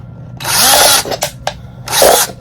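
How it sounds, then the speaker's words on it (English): An electric drill whirs loudly for about half a second, stops with a few clicks, then runs again in a second short burst, close by. "I hate the way this drill smells."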